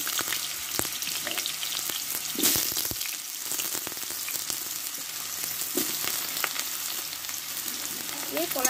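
Raw green banana pieces fry in mustard oil in a wok, giving a continuous close sizzle with occasional stirring clatter and no voices.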